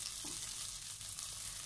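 Soybean paste frying with bitter gourd in a hot pan, a dense steady sizzle throughout with faint stirring.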